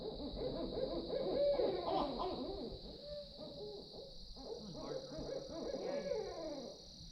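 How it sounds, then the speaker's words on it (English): Owls hooting at a swampy campsite at night, repeated overlapping hoots rising and falling continuously, fairly near and loud against a steady high insect drone. "The owls are so loud, and they go on for hours sometimes"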